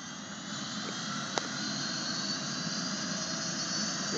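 A Dauphin II medical helicopter takes off at Carlisle Airport, giving a loud, steady roar of turbine whine and rotor wash that holds without a break, with one brief click partway through.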